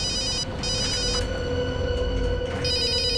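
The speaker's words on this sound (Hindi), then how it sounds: "अभिजीत का फोन।" Telephone ringing in a dramatic TV scene, repeated electronic ring bursts in a steady pattern over a continuous musical background score, no talking.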